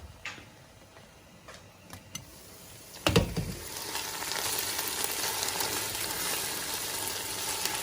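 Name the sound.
stirring fish and chicken wing stew sauce in pot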